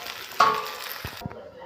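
Chicken and masala sizzle in a pan during stir-frying, with a short burst of spatula clinks and a soft scrape in a brief, fairly quiet moment.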